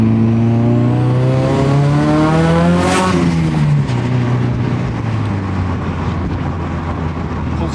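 A Nissan Silvia with no muffler accelerates hard, its loud, raw engine note climbing steeply in pitch, peaking, then dropping back as the revs fall, all close and unmuffled.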